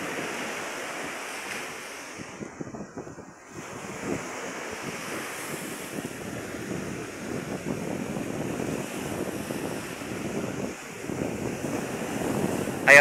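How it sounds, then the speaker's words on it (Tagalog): Strong sea waves pound the shore at New Washington, Aklan, where seawalls are battered: a continuous, loud roar of surf with heavy wind buffeting the microphone, the crashing rising and swelling toward the end. "Ang lakas ng alon"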